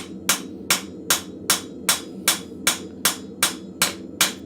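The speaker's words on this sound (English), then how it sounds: "I'm using the ball peen, and I'm starting from the center, and I'm slowly working out on my anvil" A ball peen hammer strikes metal on an anvil in a blacksmith forge, eleven sharp ringing blows at a slow, even rhythm, close and clear with no talking.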